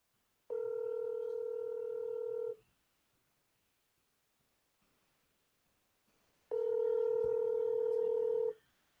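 Outgoing phone call ringing tone on a live stream: two long steady electronic ring bursts about two seconds each, separated by a few seconds of near silence, loud and clear with no talking over them.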